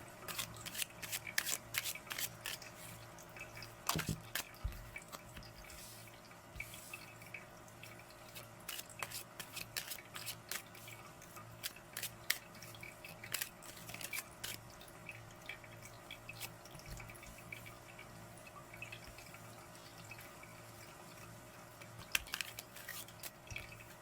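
Divination cards are shuffled for a card draw, giving soft, quiet riffling and flicking sounds in irregular bursts over a faint steady hum, with no speech.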